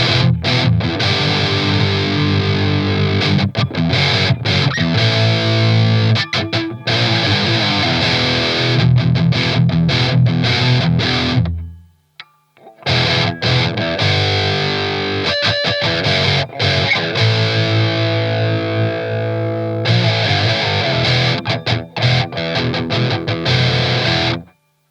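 A Guild Kim Thayil Polara electric guitar plays loud distorted riffs, switching from bridge to middle to neck pickup with everything on 10, one brief silent break between passages and a short gap before the last section.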